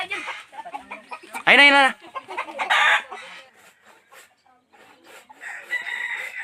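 A nearby rooster clucks and then lets out a loud, strained crow, with short rasping calls, scattered scraping noises and brief voices talking around it.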